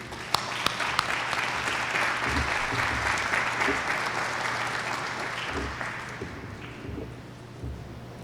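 A large audience at Kitchener's 2023 State of the City address breaks into sustained, even applause for Mayor Berry Vrbanovic, a steady clapping wash lasting about eight seconds over a low background hum.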